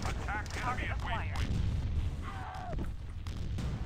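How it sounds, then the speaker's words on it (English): A mine blows up in the Starsiege: Tribes video game, a muffled boom heard under steady game noise and players talking over voice chat. "I just ran into one of my old mines"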